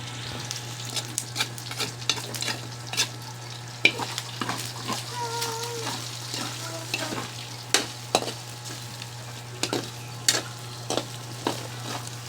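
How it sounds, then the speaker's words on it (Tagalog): Pork adobo with string beans is stirred in a hot pan with a little oil, a steady sizzle under repeated scraping and clacking of the utensil against the pan, close and continuous, with a low steady hum beneath. "Kailangan halo-haluin natin para hindi dumikit."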